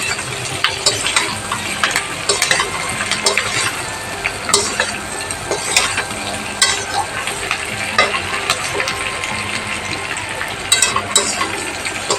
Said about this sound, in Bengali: এবারে চিকেনগুলো দিয়ে দিলাম, দিয়ে নাড়াচাড়া করতে হবে